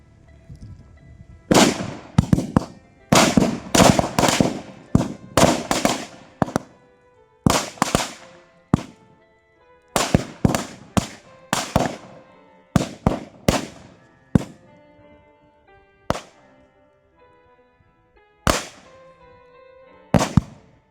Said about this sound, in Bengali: নিষ্ক্রিয়করণের সময় কিছুক্ষণ ধরে একের পর এক বাজির আওয়াজ শোনা যায় এলাকায়